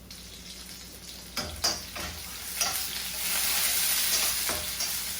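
Chopped onions frying in oil in a pan for okra bhaji, a continuous bright sizzle broken by several scraping, clattering stirs of a spoon, close and fairly loud.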